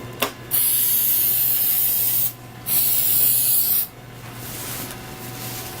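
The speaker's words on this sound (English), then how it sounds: "You want to spray all the surfaces between the wood and here with the adhesive." Adhesive spray bursts from a can onto the wooden base of an ADC 09/08 seat before foam goes on: three sustained hissing sprays, the first two long and steady, the last softer and trailing off, close and loud, with no voices.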